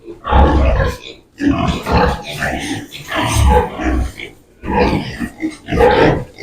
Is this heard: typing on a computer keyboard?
no